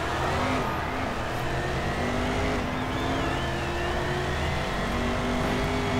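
Race car engine in the GRID racing video game, a loud, sustained revving drone with shifting pitch as the car accelerates, continuous throughout with no speech.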